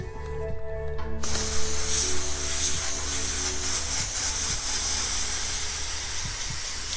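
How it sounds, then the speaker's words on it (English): An airbrush sprays paint through a stencil onto a T-shirt, a loud continuous hiss that starts abruptly after a second and holds steadily to the end. "I'm angling my airbrush towards the stencil because you're always gonna get overspray if you're using a stencil like this"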